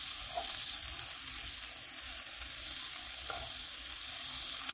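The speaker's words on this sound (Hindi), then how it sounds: "इसे मैंने सिर्फ 2 टेबल स्पून ऑयल में बहुत ही हाई फ्लेम पर नॉनस्टिक पैन में फ्राई कर लिया है 2 मिनट के लिए, स्टर फ्राई" Spring onion greens stir-fry in two tablespoons of oil over a very high flame in a nonstick pan, making a continuous close sizzle with a few faint stirring clicks before it cuts off abruptly.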